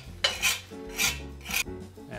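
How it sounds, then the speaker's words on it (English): A utensil scrapes grease from the side of a pan while homemade McGriddles cook, making three short raspy scraping strokes in a close, fairly quiet rhythm. "So I'm taking some of the grease from the side."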